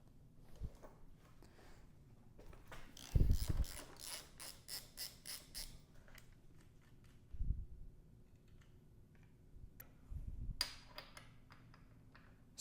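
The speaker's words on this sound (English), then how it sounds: "So I'm going to pull the steering stem nut off" On a Honda CBR600RR motorcycle, the steering stem nut is worked off with a ratchet, giving a quiet run of rapid clicking, scattered metallic clinks and a few heavier knocks.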